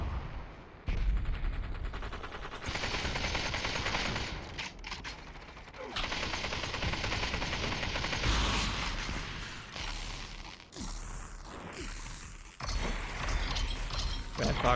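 Gunfire in a Population: One battle-royale match fight around a church, rapid bursts of shots and mechanical clatter in dense, shifting volleys, with a caster's voice talking over the action.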